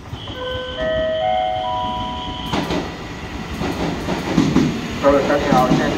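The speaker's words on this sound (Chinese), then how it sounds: "现在第二月台 A 站出站的是12:00开往花莲的4026区间快车" A TRA 4026 local express train at Luodong station in Taiwan: a platform chime of steady tones gives way to the loud, close rumble and clatter of rolling rail cars.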